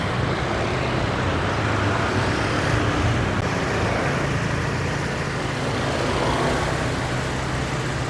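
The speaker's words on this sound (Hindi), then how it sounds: "ये देखो कितने लंबे लंबे ट्रैफिक जैम है" Dense road traffic in a jam in Canggu, Bali: a steady, loud wash of car, scooter and engine noise with no breaks, heard from close by.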